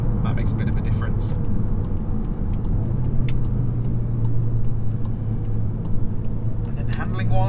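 A Seat Leon Cupra engine and exhaust idle in a steady, moderately loud low drone that holds throughout with only small rises, and a faint voice murmurs underneath.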